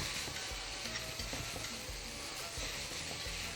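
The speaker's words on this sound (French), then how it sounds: "je mélange" Vegetables sizzle in a frying pan as they are stirred, a steady frying hiss broken by scraping, clacking strokes of the utensil, quiet and close with no talking.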